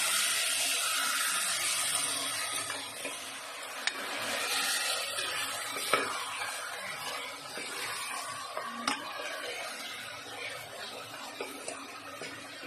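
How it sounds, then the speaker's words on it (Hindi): Mutton with whole green chillies frying in a pot, a steady soft sizzle and hiss with occasional faint pops and clinks, fairly quiet and continuous, no voices. "इसे अच्छी तरह से मैं 5 से 6 मिनट तक भून लेती हूँ।"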